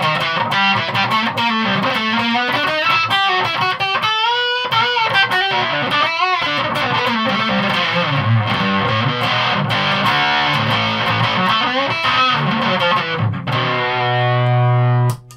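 Electric guitar played through a DOLAMO D-2 silicon fuzz pedal, a thick, saturated distorted tone with dense chords and sustained notes running continuously, loud and upfront, ending on a held low note that cuts off abruptly.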